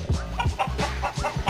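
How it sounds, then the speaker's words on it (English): A chicken clucks in short, repeated bursts, close and fairly loud, with a steady rhythmic pattern of throaty clucks and no talking. "nice chicken."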